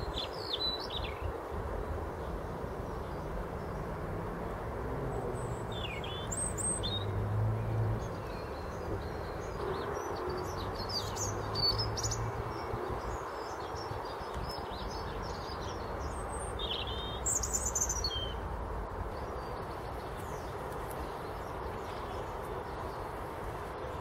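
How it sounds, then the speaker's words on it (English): Songbird at an allotment trilling and chirping in repeated short bursts throughout, fairly distant over a steady outdoor hiss with faint insect buzz and low rumble; no talking. "I'll see if I can catch a bit of that bird singing there."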